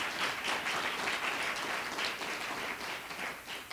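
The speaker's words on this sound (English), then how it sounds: "But if you give them a round of applause" An audience gives a round of applause, a steady wash of many hands clapping at moderate distance, fairly faint and continuous for a few seconds with no voices.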